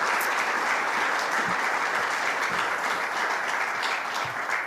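A crowd claps warmly at an outdoor event unveiling a statue of Lincoln Alexander. The applause is a sustained, close wash of many hands with a few sharper claps standing out, and nobody speaks over it.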